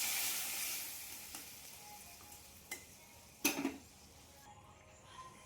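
White brinjal simmers quietly in a pan after a splash of water is added, giving a faint, steady low sizzle with a few brief clicks and one louder burst of bubbling midway.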